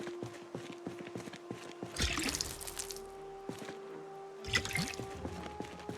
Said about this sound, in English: To pour on ground.